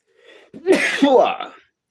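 A single loud sneeze up close, a short breathy intake building into an explosive burst that quickly fades.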